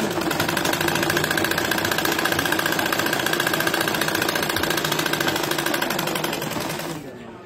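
Sewing machine stitching steadily and loudly at close range through a salwar tailoring lesson, a fast even mechanical whirr that runs almost the whole time before stopping abruptly near the end.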